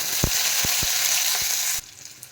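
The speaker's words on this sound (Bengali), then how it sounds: "আমি দেখেন গোটা জিরে দিয়ে দিলাম ফোড়নে দিয়ে দিলাম কুচনো রসুন" Cumin seeds and chopped garlic sizzle loudly in hot oil in a wok, a steady close frying hiss with a few soft stirring knocks, cutting off abruptly near the end.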